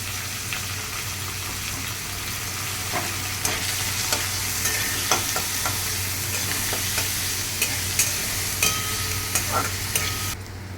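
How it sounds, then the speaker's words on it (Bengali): Onions sizzle and fry steadily in a pan, with occasional scraping clicks of a spatula stirring, a low hum underneath. "এটাকেও আমি হালকা ব্রাউন করে ভেজে নেব"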